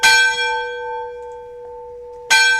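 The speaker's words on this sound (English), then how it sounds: "we're going to get this alarm bell, aren't we?" Alarm bell clanging in the video game Ancient Warfare 3, a loud metallic strike ringing out with long sustained tones that slowly decay before a second loud strike near the end.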